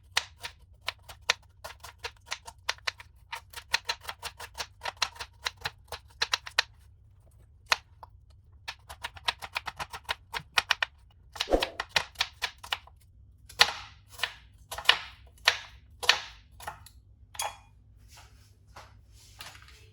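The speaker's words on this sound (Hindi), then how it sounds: "अब प्याज है, प्याज को भी हम उसी तरह ब्रीक ब्रीक काट लेंगे।" Knife finely chopping onion on a cutting board for a spiced liver dish, a long run of quick, sharp taps in steady bursts with brief pauses, close and clear, no talking.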